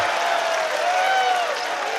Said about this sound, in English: on this foul, they're all in applause for the home team